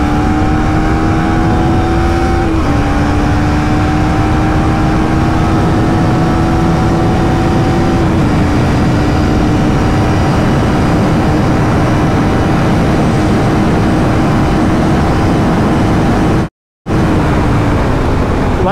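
A 2024 KTM Duke 390 motorcycle engine drones loudly and steadily at top speed on the road, its pitch holding high with slight shifts, wind rush throughout and a brief dropout near the end.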